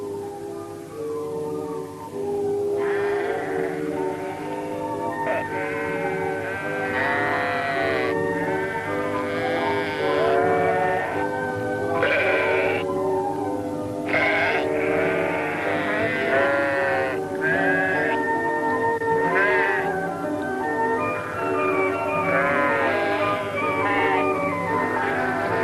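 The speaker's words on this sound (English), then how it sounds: "the first lambs arrive at Shelvingford." Newborn lambs and sheep bleat repeatedly on a farm at lambing time in spring, overlapping wavering calls near and loud, continuing steadily over a low steady background.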